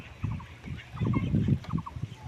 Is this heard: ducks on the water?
yes